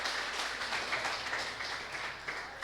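A church congregation claps continuously, a dense wash of applause from a sizable group, moderately distant and steady throughout with no speech.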